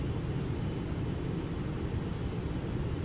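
Steady low roar of Boeing 777F jet engines in X-Plane 12, a broad continuous rumble and hiss at an even moderate level with no voices.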